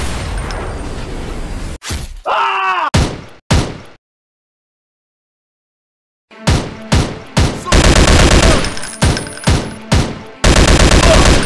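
Gunfire fills a commando shooting game on Android: sharp loud bursts of rapid automatic shots, then a few seconds of total silence, then more rhythmic volleys.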